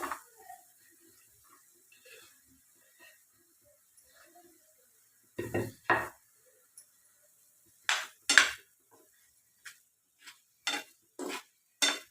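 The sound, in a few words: chopped apple pieces added to a cooking pan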